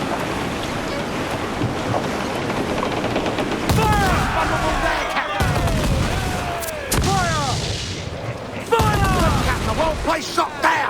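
Broadside cannon fire from a sailing ship in Assassin's Creed IV Black Flag, a series of loud booming volleys over wind and ocean noise, with crew voices shouting orders between the blasts.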